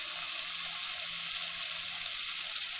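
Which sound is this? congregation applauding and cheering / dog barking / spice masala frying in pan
spice masala frying in pan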